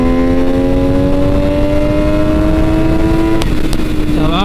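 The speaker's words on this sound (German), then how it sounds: "Ich möchte jetzt mal nochmal einen Gang ausdrehen." An MV Agusta Dragster 800 RR motorcycle revs hard through a gear, its loud rising engine note climbing steadily for several seconds before a quick shift and a dip in pitch.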